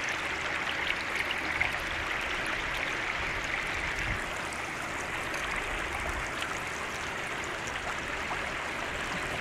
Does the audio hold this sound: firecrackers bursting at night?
no